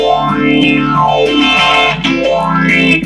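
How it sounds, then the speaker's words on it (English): Distorted electric guitar played through a modulation effect, its tone sweeping up and down in a loud, wavy, warbling motion across several chords. "So it makes that really weird wavy type sound."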